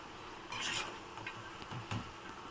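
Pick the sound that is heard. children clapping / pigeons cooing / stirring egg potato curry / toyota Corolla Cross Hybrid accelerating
stirring egg potato curry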